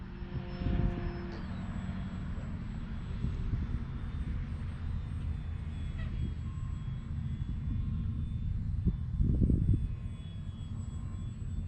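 A small X-Fly Glastar V2 RC trainer plane flies with an electric motor, giving a continuous distant whine and hum that stays fairly even throughout, with a brief louder burst near the end.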